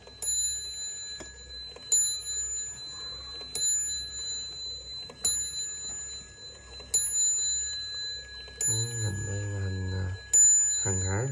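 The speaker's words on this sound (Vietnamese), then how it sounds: "Cái này thì nó dùng chuông chén ha" Antique wall clock with a bowl-shaped bell striking about seven evenly spaced, ringing chimes, each with a long metallic decay, over a faint steady ticking; a brief low murmur joins near the end.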